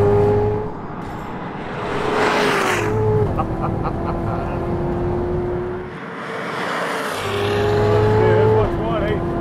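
A 755 hp Chevrolet Corvette ZR1 accelerates hard on a race track, heard from inside. The loud engine roar climbs in pitch, drops at each gear shift and climbs again, repeating across the run.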